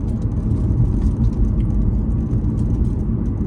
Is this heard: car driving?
yes